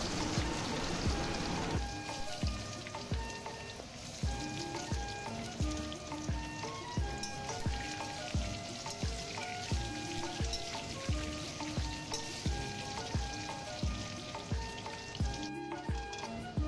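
Steady crackling sizzle of chandi fish frying in hot oil, heard faintly beneath a rhythmic background music track with a regular beat.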